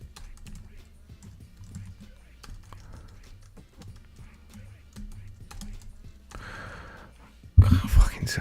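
Fast, light keystrokes on a computer keyboard click steadily at close range while someone breathes and murmurs quietly nearby, ending in a sudden louder thump.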